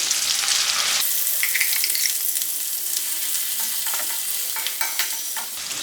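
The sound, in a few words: stirring cucumber groundnut chutney into sizzling tempering in a pan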